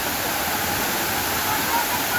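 Rushing water pours steadily at Hinulgang Taktak waterfall in Antipolo, a loud, even broadband roar close by with no break or talking.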